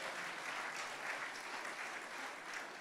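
Steady applause from an audience at a racing championship awards banquet, a continuous even patter of many hands clapping that fills the whole stretch without talk.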